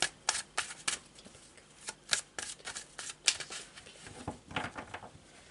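Tarot de Marseille cards being shuffled by hand: a run of crisp, papery riffles and flicks in irregular bursts, close and fairly quiet, with no talking.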